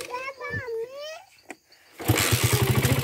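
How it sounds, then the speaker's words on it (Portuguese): A new motorcycle's engine starts and settles into a loud, rapid idle thumping close by, preceded by a child's and adult's voices talking. "Tu apertou aqui, mas liga a moto!"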